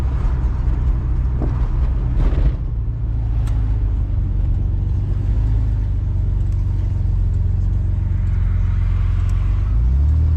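Low, heavy rumble from inside a low-slung Fiero GT driving over bumps, with thumps and jolts early on over a steady road and engine drone, close and loud.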